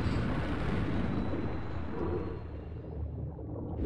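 Deep explosions rumble through a Bioshock 2 game scene, a dense, loud, sustained roar that slowly fades and trails off toward the end without any talk over it.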